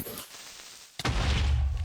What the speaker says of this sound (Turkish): Patladı ya.